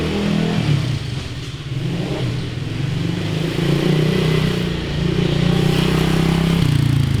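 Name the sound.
pit bike motorcycle engine revving and riding off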